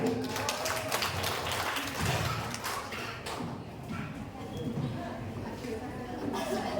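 Dense, steady crowd applause at a primary school quiz competition final fills the whole stretch, a continuous wash of many hands clapping at once with no breaks.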